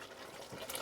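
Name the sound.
pouring cornflour mix into sauce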